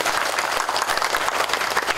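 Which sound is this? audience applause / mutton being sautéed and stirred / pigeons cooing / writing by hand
audience applause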